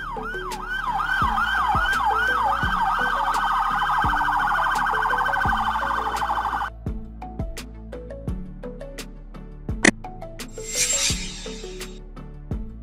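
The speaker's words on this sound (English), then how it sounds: "Police car." A police car siren wails loudly and continuously in a rising-and-falling cycle for about seven seconds, then cuts off, leaving a steady background beat with scattered sharp clicks and a brief noisy burst near the end.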